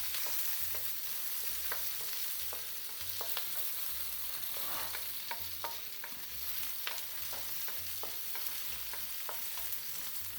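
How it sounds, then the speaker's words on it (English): Steady frying sizzle of ginger and garlic in a pan over high flame, with scattered clinks and scrapes of a utensil stirring throughout, no voices. "you're frying the ginger and garlic as well on the high flame"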